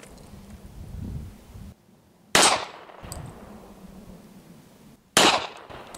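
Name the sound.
40 caliber pistol gunshots at a shooting range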